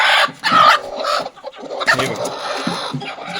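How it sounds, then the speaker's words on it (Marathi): A broody desi village hen clucks close by in a coop, a few throaty, drawn-out clucks and short murmuring grunts spread across a few seconds with no human voice. "ही बघा कोंबडी, ही बघा ही एक खुडूक कोंबडी"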